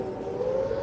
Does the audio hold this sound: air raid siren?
yes